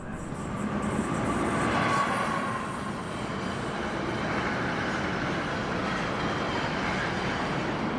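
An Italian train passes through a station at night without stopping, a loud, sustained rumble and roar of rolling wheels and carriages, swelling early then holding steady and close beside the platform.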